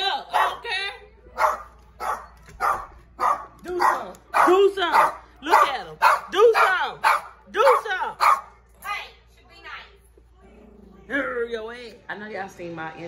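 Two small puppies bark in a rapid, close series of high yips and bow-wows, then whimper and yip more softly near the end.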